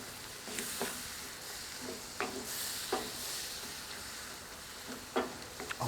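Sliced onions with honey and balsamic vinegar reducing in a cast-iron pan, a soft continuous sizzle with a few sharp scrapes and stirs of a utensil, quiet and close.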